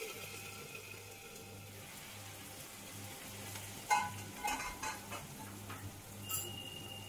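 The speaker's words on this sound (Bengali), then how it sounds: "এবার আমি পেঁয়াজ ভেজে নিচ্ছি।" Onions frying in a pan give a faint, steady sizzle, with a few soft utensil clinks and stirring knocks around the middle.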